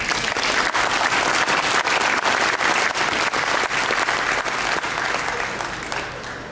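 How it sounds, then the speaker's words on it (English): An audience at the Red Lake Band State of the Band address applauds tribal council members, with steady, dense clapping that holds strongly and then begins to fade toward the end. "one more time I'd like to give them all a round of applause"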